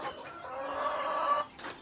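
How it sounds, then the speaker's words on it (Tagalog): Free-range farm chickens cluck in a steady, overlapping chorus close by, with a brief louder squawk near the end and no talking. "So mo ni ato ang mga manok nga naka-range, nagyod sila ron."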